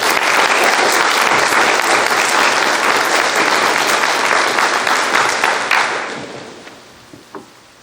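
Sustained, dense applause from a school forensics showcase audience welcoming a performer, loud and even throughout before tapering off into a few scattered final claps.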